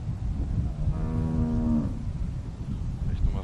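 A cow moos once in The Walking Dead video game, a long, drawn-out bovine call lasting under a second, heard fairly close over steady low game ambience, with no talking.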